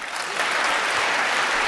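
Applause fills a parliamentary chamber, a dense, even wash of many hands clapping that rises quickly and holds steady at a moderate level, with no voice over it.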